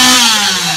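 A chainsaw at the exit of a Halloween horror attraction gives a loud, steady engine whine with a slightly falling pitch, running close by and continuously for a short moment with no talk over it.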